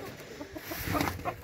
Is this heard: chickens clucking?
yes